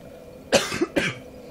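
Two sharp, close coughs in quick succession from a man with a cold, clear and loud against a quiet background with no talking.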